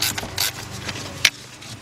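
Mechanical clicks and ratcheting taps from work on a bolt of a 2000 Subaru Impreza Outback 2.2, a close, short burst of metallic clatter with one sharper knock near the end.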